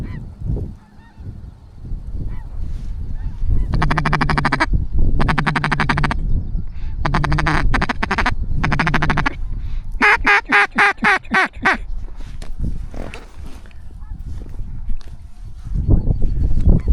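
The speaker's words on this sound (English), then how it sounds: "There's so many ducks." Loud, close bursts of waterfowl calling in repeated clustered volleys come from a flock of ducks near a hunting blind during a bow hunt, honking and quacking with brief gaps between bouts.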